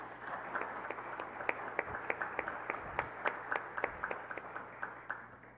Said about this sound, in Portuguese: gostaria também de pedir uma salva de palmas ao Doutor Gentil